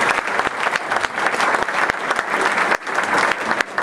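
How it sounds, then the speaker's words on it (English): An audience at an Alsace wine festival in Anderson Valley claps loudly and steadily, a dense continuous wash of many hands close by with a brief dip midway, no talking over it. "can we give him a round of applause?"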